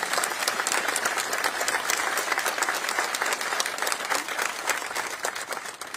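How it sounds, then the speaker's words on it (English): Audience applause at a military ceremony at Fort Hood, Texas, a dense sustained wash of many hands clapping, loud and even, easing slightly toward the end. "please join me in a warm round of applause for the 3rd Armored Corps Commander, Lieutenant General Sean C. Bernardi."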